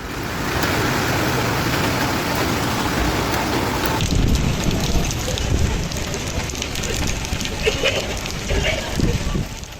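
Heavy rain pours down in a thunderstorm in Sofia, a dense, loud hiss of downpour on surfaces that grows rougher and more turbulent midway, with a voice speaking over it.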